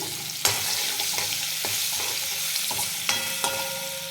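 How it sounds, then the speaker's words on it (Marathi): Garlic sautés with curry leaves in hot oil in a pan, a continuous sizzle broken by a few sharp spoon scrapes and knocks as it is stirred, with no voices. "लसूण घातल्यानंतर आपल्याला थोडंसं छान असं परतून घ्यायचं आहे"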